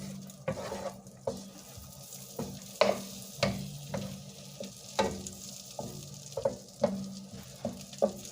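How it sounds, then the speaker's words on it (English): Butter melting and frying in a pan on the stove, with soft crackling and sizzle broken by a series of sharp clicks and utensil knocks against the pan, fairly quiet and close. "And I'm going to add a little bit more butter"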